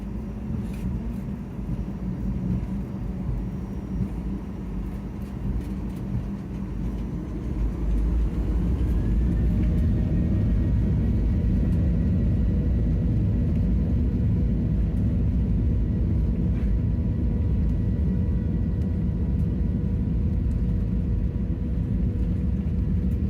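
A Virgin Australia Boeing 737 sits on the runway ready for takeoff, its engines rumbling steadily as heard from the cabin, then spooling up louder around the midpoint into a sustained roar.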